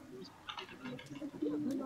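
A dove or pigeon coos in a forest horror video game, soft low calls under quiet background noise and faint talk.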